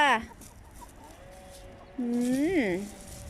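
Hens cluck and call nearby in their laying nest, a couple of short rising and falling cackles, with quiet stretches and a voice at the start.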